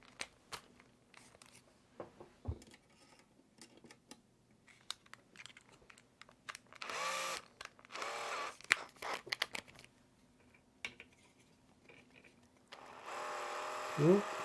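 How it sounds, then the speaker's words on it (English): A power drill bores out a part to 4 mm while a Rat Rig V-Minion 3D printer carriage is being upgraded. Short motor whirs stand out around the middle and at the end, between scattered clicks and handling noises. "Let's drill it out to 4."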